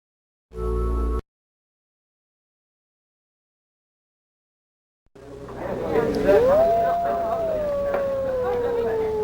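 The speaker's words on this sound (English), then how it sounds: "It was a wolf's howl" A wolf howls in the Sega CD game Dracula Unleashed, a long wavering tone that rises and then slowly falls, over a low rumbling background after a short burst of noise and a silent gap.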